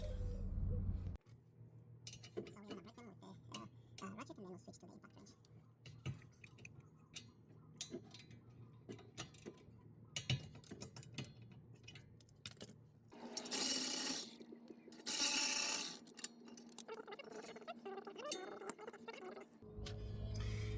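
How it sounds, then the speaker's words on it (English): Bolts being worked loose from a brake caliper on a 2022 Mitsubishi Outlander's rear brakes: metallic clicks, ratcheting ticks and clinks, close and intermittent, with louder bursts of tool noise near the end. "So right now I'm gonna take off this brake caliper."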